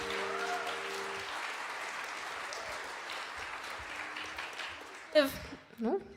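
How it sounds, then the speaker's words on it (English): An audience at a live music showcase applauds sister performers, sustained clapping that gradually thins before a voice speaks close up near the end. "give one more round of applause for these awesome artists right here"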